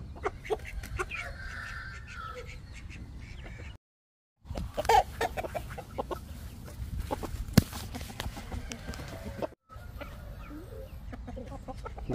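Chickens cluck and a rooster-like fowl calls repeatedly in an irregular, fairly close flock chatter, with two brief silent gaps breaking the steady run of clucks.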